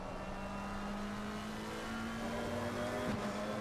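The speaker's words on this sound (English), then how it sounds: "we hear the roaring engines of the McLaren 720S Evo against this Porsche 992" A McLaren 720S Evo and a Porsche 992 race at the Red Bull Ring in a racing video game, their engines making a steady loud drone, one pitch holding and then dropping sharply near the end.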